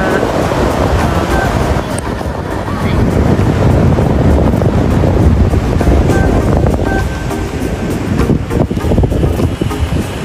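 Ocean waves at Bolinao, Pangasinan rumble and wash in steadily, mixed with heavy wind buffeting the microphone; loud and close, with no distinct speech.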